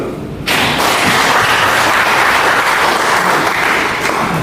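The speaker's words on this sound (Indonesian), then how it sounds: "tepuk tangan dulu lah" Applause breaks out suddenly from an audience at a stakeholder discussion, a loud, dense burst of clapping that swells and holds steady to the end.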